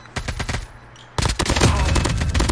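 Rapid automatic gunfire in the Call of Duty Mobile battle royale game, a few quick bursts, a brief pause, then a long loud stream of sharp shots, close and dense.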